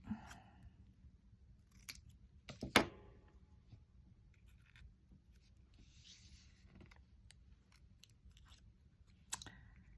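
Scissors cut through paper in a few crisp, close snips, with one louder cut standing out, among quiet handling rustles and no speech.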